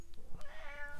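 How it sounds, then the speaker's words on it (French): A cat meows once, a short rising-falling call heard fairly close and clear against a quiet indoor background with no talking. "C'est le chat qui miaulait avant"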